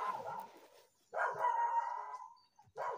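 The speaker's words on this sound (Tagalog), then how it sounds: "Pero bakit may aso?" A dog near an abandoned spot during a rescue operation gives drawn-out, howling barks, two long calls and the start of a third, fairly faint against silence.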